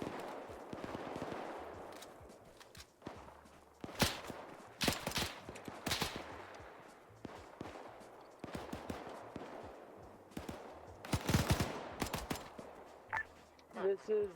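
Gunfire in the WWII shooter Arma 3 Iron Front during an assault on a factory: scattered single shots and short bursts, some close and loud, others distant, with radio chatter and talk in between.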